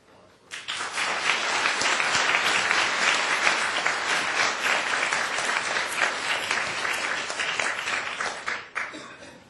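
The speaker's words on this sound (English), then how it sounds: "Let's do a round of applause for" An audience at a law symposium on civil resistance and nonviolent democratic transitions breaks into sudden, dense applause that holds for several seconds before fading out.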